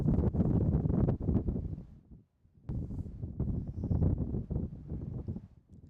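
Wind gusts buffet the microphone at an outdoor baseball field in loud, rough bursts, dropping briefly to near silence before surging again.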